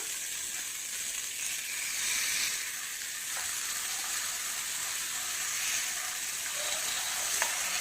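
Seer fish sizzles steadily in a frying pan over medium flame, giving a bright, even hiss with faint crackles, close and continuous throughout.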